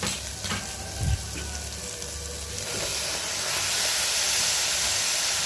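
Half a kilo of beef going into a hot frying pan with sautéed masala for beef biryani, giving a steady broadband sizzle that swells louder over the last few seconds, with a brief low thump near the start and no talk.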